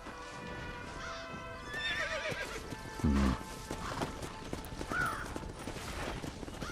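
A horse in the video game Red Dead Redemption whinnies in two high calls with clip-clopping hooves and creaking mechanical sounds, moderately loud, with a thud partway through.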